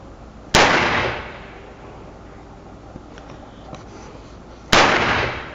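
Two sharp, loud firework bangs on Bonfire night, several seconds apart, each with a lingering crackling decay, faint pops and ambient noise in between.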